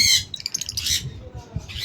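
Green opaline Fischer's lovebirds in a small cage let out sharp, shrill squawks and chirps in quick bursts, close and loud over a brief stretch.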